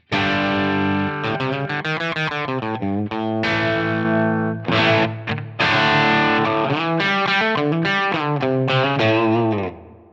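Distorted electric guitar through a Line 6 Helix Brit 2203 amp model with added effects, played as loud sustained chords and riffs with short pauses, alone and continuous.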